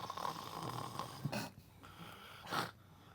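A person imitates snoring with a couple of faint, raspy inhaled snore sounds spaced about a second apart over quiet background noise.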